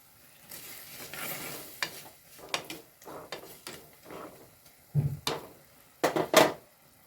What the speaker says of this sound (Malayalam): കുറച്ച് ഉപ്പിട്ട് കൊടുത്തു ഒന്ന് അലക്കി കൊടുക്കാം